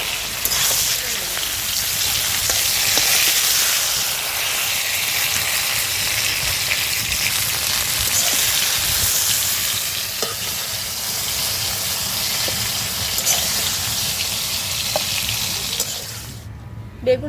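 Eggplant pieces seasoned with salt and turmeric fry in hot oil, giving a loud continuous crackling sizzle with occasional stirring scrapes throughout.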